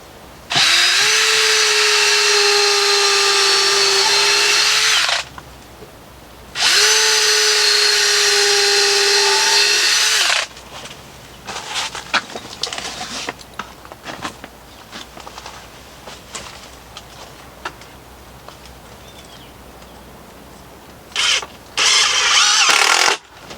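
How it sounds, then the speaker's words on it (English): A power drill drives screws into the wooden frame of a greenhouse potting bench: two long, loud, steady whirring runs of about five seconds each, then handling clatter, and a short final burst of the drill. "I think I may put two more screws into where it connects here."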